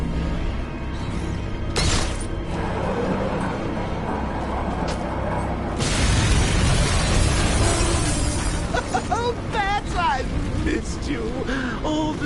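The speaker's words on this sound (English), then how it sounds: "Warning, explosion imminent." Explosion in Batman: Arkham Knight: a sudden broadband blast erupts midway over busy game sound, followed by a loud rumbling tail and scattered debris, with chirping effects afterward.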